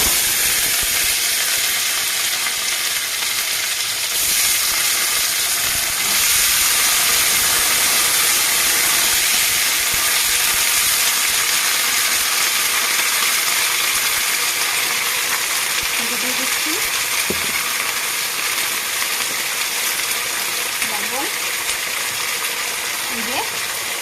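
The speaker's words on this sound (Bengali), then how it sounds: "এ পাশেও তেলটা গরম হয়ে গেছে আমি লবি ভাজাটা দিয়ে দিচ্ছি" Black-eyed peas (lobia) fry in hot oil, a steady loud hiss and sizzle running without a break, with faint occasional clinks and a soft voice now and then.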